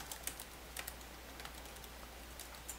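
A computer keyboard clicks through a short run of scattered keystrokes, faint and close, over a steady low hum with no talking.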